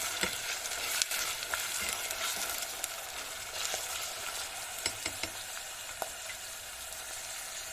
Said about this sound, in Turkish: Şöyle havuçlarımız hafif rengini verdiği takdirde kavurma işlemimiz tamamdır.